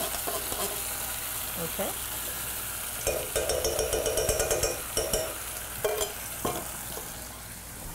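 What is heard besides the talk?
refried beans heating up in a pan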